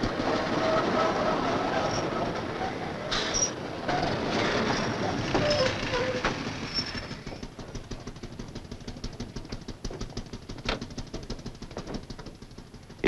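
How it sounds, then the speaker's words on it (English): A commuter train runs along the rails on the Manhattan to Long Island line in 1963, a loud steady rumble with rhythmic clickety-clack of wheels over rail joints that eases slightly toward the end, with no voices. "The train from Manhattan to Malvern, Long Island, a typical commuter train town."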